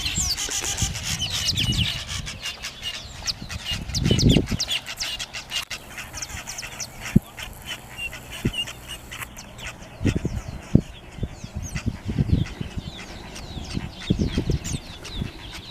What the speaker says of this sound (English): just love the sound of all these birds here